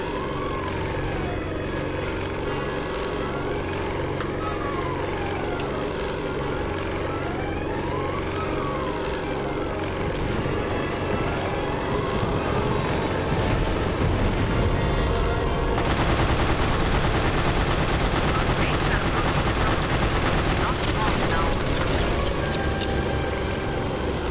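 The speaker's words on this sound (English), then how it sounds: "The Stukas are firing on our men." Stuka dive bombers firing on troops in the Secret Weapons Over Normandy video game, with a steady loud drone of aircraft engines and bursts of machine-gun fire throughout, growing denser later on.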